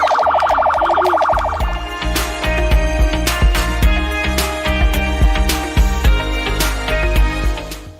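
A wailing ambulance siren at the grand launch of a social centre in Kisumu, its rising and falling tone loud at the start, then swamped by loud rhythmic guitar music and a crowd carrying on over the beat.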